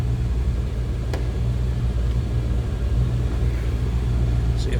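A 1989 Chevrolet Corvette convertible with a 5.7 V8 idles in a steady, low rumble that stays even from start to end, with a single faint click partway through.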